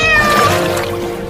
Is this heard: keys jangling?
no